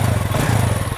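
KRISS 110 motorcycle with an upgraded engine idling after starting on the first try, a loud, close, steady putter with an even rapid beat.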